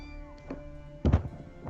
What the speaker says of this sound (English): Oh my god, I heard the kitten.